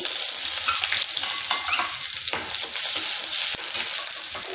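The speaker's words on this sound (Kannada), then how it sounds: "ಅದಕ್ಕೆ ಇವಾಗ ಈರುಳ್ಳಿ ಸಣ್ಣ ಹೆಚ್ಚಿಟ್ಕೊಂಡಿದ್ದೀನಿ ಕರ್ಬೇವು ಇಟ್ಕೊಂಡಿದ್ದೀನಿ ಅದನ್ನು ಹಾಕ್ಕೊಂಡು ಸ್ವಲ್ಪ ಚೆನ್ನಾಗಿ ಗೋಲ್ಡನ್ ಬ್ರೌನ್ ಬರೋವರೆಗೂ ಹುರ್ಕೊಳ್ಳೋಣ" Chopped onions and curry leaves frying in hot oil with mustard seeds, a dense continuous sizzle with occasional stirring scrapes and pops, loud and close throughout.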